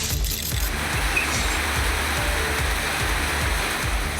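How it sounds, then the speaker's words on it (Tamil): Heavy night rain pouring down in Hosur, a dense steady roar of water that stays loud and unbroken throughout, with faint rhythmic low thumps underneath. "ஓசூரில் இரவில் கொட்டி தீர்த்த மழையால் வாகன ஓட்டிகள் அவதிக்குள்ளாகினர்"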